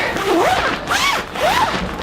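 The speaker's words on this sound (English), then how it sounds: "But unfortunately, guys, the zipper's just stuck." A tent zipper that keeps getting stuck is tugged in three short, rasping pulls with brief pauses between them, loud and close, with no talking.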